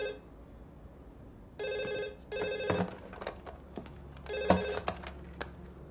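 A telephone rings indoors in three short bursts of trilling electronic tone, separated by brief pauses, fairly close and clear over a quiet room.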